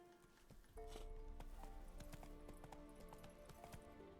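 Hooves of the horse Roach trotting in The Witcher III video game, a quick, even clip-clop of hoof strikes on ground set over a soft game backdrop, close and clear, with no voices.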